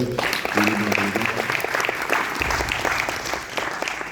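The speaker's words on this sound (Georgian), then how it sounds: "ამიტომ მოდით ტაში დავუბრალოთ ყველა ფაუნდერებს" Audience applause for startup founders at an angel investor event in Telavi, a dense wash of clapping that swells and holds steady for about four seconds, with some voices briefly audible early on.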